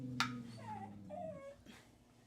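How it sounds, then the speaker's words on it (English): A corgi whimpers softly in a few short, rising and falling whines, close by and fairly quiet, with no talking over it. "Yes, precious baby corgi."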